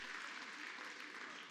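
Applause breaks out in a chamber of Congress during the electoral vote count as Texas's votes are announced, a faint, steady patter of many hands heard from a distance.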